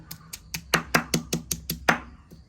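Chillies and shallots pounded in home cooking, about ten sharp, evenly spaced thuds in a steady rhythm, close and fairly loud, with no talk.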